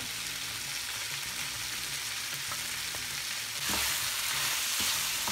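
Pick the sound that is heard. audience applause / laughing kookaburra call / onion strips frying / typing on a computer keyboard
onion strips frying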